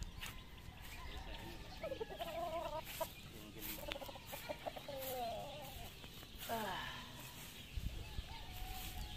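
Baby chicks cheep on a farm, repeating thin high peeps in clusters. Hens cluck in the background and a person talks softly under the steady outdoor noise.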